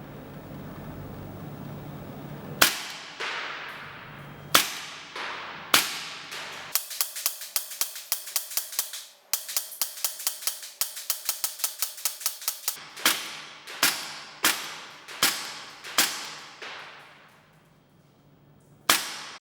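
Tokyo Marui MP7 gas blowback airsoft gun firing a mix of sharp single shots and a fast full-auto burst, each crack loud and close with a metallic snap, separated by short pauses; no talking.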